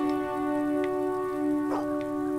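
Steady rain falls in the video game Fable 2, a continuous soft hiss with a few scattered drop-like ticks, set beneath sustained tonal game music.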